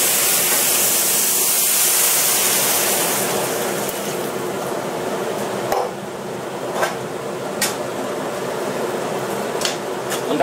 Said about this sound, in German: So, jetzt wird das Ganze also mit heißem Wasser aufgegossen.